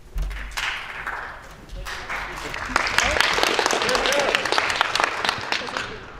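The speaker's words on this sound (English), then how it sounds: "Please don't applaud when the person just stands up." Members of a model parliament chamber applaud as a member rises to speak, scattered clapping and desk taps that build into a fuller round, with voices and murmuring in the room.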